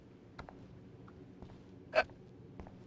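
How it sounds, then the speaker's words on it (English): A single sharp hiccup stands out in a video game scene of Life is Strange, over a quiet background with a few faint clicks. "Oh, Jesus, I got the hiccups now."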